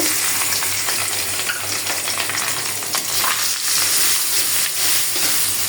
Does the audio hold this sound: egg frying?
yes